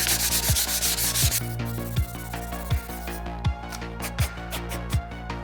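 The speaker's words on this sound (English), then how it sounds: "Maybe just hit it real quick with some sandpaper to take off these kind of tear out." Sandpaper rubbed across a wood speaker panel for a virtual pinball cabinet to clear tear-out, a steady close abrasive scratching with regular back-and-forth strokes and soft knocks marking each pass.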